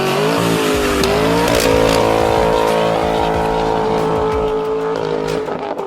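A 2022 Chevy Colorado fitted with a custom split dual exhaust system revs loudly and close, its engine note rising and holding with a deep rumbling tone before easing off.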